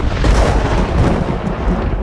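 A big thunder bang during a storm fills the whole stretch, a loud, dense, low rumbling roar that booms close and steady without a break.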